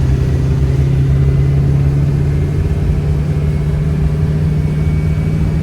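Untuned Duramax diesel pickup under about three-quarter throttle, a loud, steady, droning engine rumble with a constant low hum and no change in pitch, heard close and alone.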